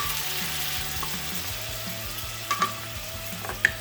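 Birria juice hits a hot pan to deglaze the browned fond, setting off a steady sizzle with a few sharper crackles and pops near the end, no voices.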